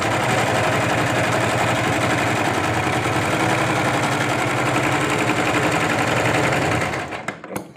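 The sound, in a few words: sewing machine stitching a sleeve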